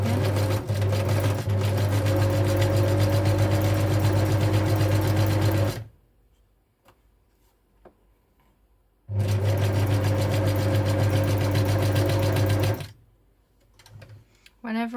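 Sewing machine stitching fabric with a zigzag stitch, a loud steady motor whir with rapid needle ticking in two long bursts separated by a quiet pause.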